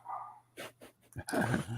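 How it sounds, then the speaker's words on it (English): Dogs bark in a few quick, fairly close bursts, a couple of short yaps followed by a louder, rougher flurry, with no one speaking over them. "Again, my apologies for the dogs."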